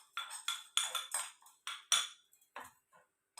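A metal spoon clinks and scrapes in a pan while cornflour is mixed into carrot paste, about a dozen quick, sharp strokes in an uneven rhythm, close and fairly soft.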